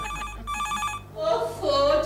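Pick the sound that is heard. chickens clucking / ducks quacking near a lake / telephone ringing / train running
telephone ringing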